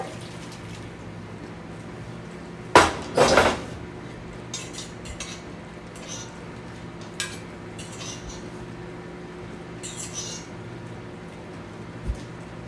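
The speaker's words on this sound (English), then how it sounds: "I'm actually going to pour the vegetables into this one and put it back in the oven" Roasted vegetables, including rutabaga and onion cooked with a chuck roast, are tipped into a pot in one short burst of clattering metal and thuds, followed by scattered faint clinks in a quiet kitchen.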